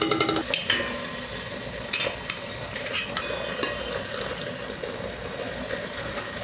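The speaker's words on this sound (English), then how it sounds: "now put all the bones and cartilage and skin back in" Chicken bones, cartilage and skin drop back into a soup pot with clattering knocks and clinks against the metal, a few irregular hits over low kitchen background noise.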